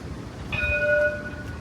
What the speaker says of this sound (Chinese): 这个电车的声音